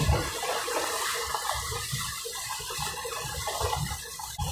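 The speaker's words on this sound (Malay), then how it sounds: "air agak banyak juga di atas jalan ni" Floodwater runs across a road in Kelantan near Pasir Pekan and Tumpat, a continuous loud rushing and splashing that stays even throughout, no talking.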